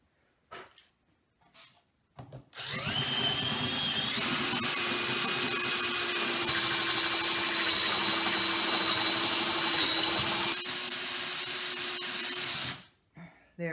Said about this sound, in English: This drill bit is hot, but we got our hole in and our handle fits in nicely.